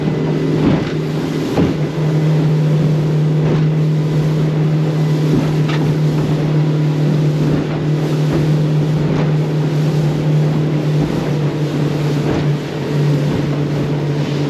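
A Warrior 175 motorboat runs at speed with a steady, loud engine drone, its hull slapping the waves and wind buffeting the microphone throughout.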